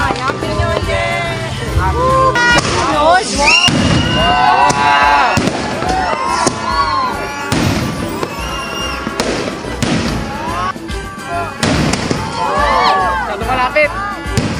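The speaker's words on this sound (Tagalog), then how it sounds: "Watching fireworks ng mga kapitbahay." Neighbours' New Year fireworks, 2024 year-end party, crackling and popping in repeated bursts with whistling rockets rising and loud bangs nearby, under excited chatter and voices.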